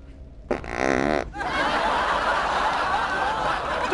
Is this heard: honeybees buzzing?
no